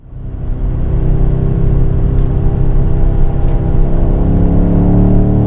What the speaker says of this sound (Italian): Adesso entriamo in pista con un'altra BMW che forse è un po' meno da pista